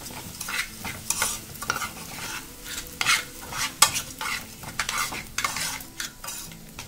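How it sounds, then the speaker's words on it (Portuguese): Garlic and onion frying in pork lard for feijoada by a riverside crackle and sizzle under repeated scraping stirs, with rhythmic bursts of spoon against pot and no talking. "Fritei alho, cebola,"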